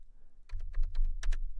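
A short run of clicky keystrokes on a computer keyboard, about eight quick taps close to the mic in a quiet room, with no talking.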